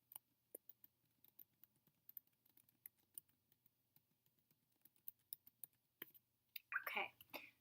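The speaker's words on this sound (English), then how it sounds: "I'm going to type this" Light, quick keystrokes on a computer keyboard tap out a search query in a close, quiet room, an irregular patter of soft clicks that ends in a brief louder rustle.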